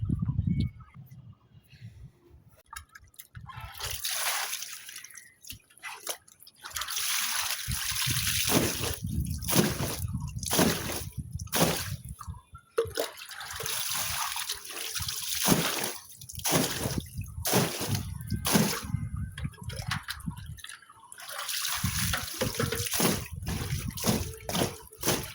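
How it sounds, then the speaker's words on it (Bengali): Clothes washed by hand in buckets of water in a bathroom, with repeated splashing, sloshing and dripping in irregular bursts, close and fairly loud. "এখন এই যে বাকি কাপড়গুলো ধুয়ে নেড়ে দিই"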